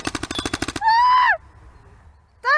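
A rapid, even burst of gunfire-like pops sounds during a prank where an apple is shot off someone's head. Whining, electronic-sounding tones follow, then a pause, then another whine.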